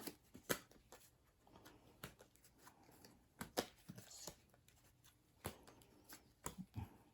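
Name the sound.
shuffling a deck of cards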